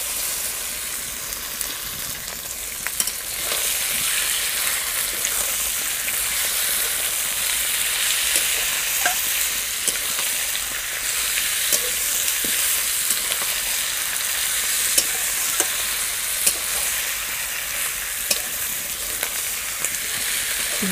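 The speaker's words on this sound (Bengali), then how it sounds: "জল বের হওয়া পর্যন্ত এইভাবে নাড়তে থাকবো।" Marinated chicken stirred and frying with browned onions in a pumpkin chicken curry, a steady loud sizzle throughout with occasional scraping stir clicks, no voices.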